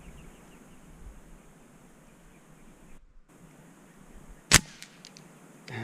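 A single sharp rifle shot cracks out on a shooting range, loud and abrupt against a steady outdoor hiss, followed by a short decaying echo.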